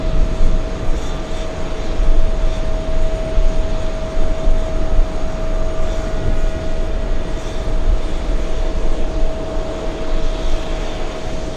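Boeing 747 jet airliner at JFK airport, a continuous broadband jet roar with a steady whining tone, moderately loud and sustained for the whole stretch, no voices.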